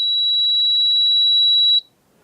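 A NAVAC refrigerant charging machine gives one sustained high-pitched electronic tone for nearly two seconds while linking to its scale, then cuts off abruptly into near silence.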